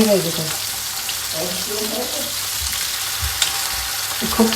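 Chicken frying in oil in a pot gives a steady close hiss of sizzling throughout, with faint clinks and a low hum of voices in the background.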